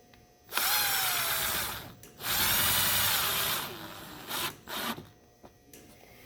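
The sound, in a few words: power drill driving square drive screws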